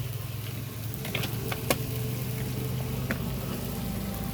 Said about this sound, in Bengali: এখন একটু ফ্রাই হচ্ছে, জিনিসটা ফ্রাই।